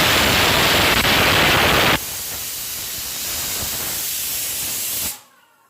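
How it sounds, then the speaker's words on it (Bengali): A pressure cooker cooking mutton on the stove vents loud steam in a harsh hiss, then drops to a softer, steady hiss before cutting off abruptly. "প্রেসারে এখন মাটনটা একটু সিটি দিতে বসিয়েছি।"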